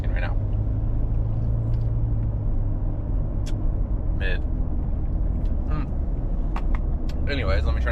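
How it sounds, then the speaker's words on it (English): A car driving on a road, heard from inside as a steady low engine and tire rumble that runs throughout, with occasional brief higher clicks and a person talking over it. "let me try not to hit this car"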